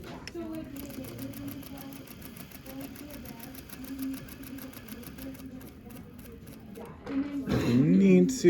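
A sewing machine runs steadily, stitching a seam at 12 stitches per inch with a 5/8 inch seam allowance and backstitching at the start and end, as a continuous buzzing whir with a louder burst near the end.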